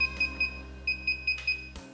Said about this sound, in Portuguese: E ele vai ficar esse bip com a luzinha azul apitando